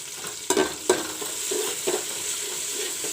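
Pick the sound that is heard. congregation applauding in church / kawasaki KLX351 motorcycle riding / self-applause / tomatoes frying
tomatoes frying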